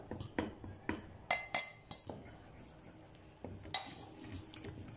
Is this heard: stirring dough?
yes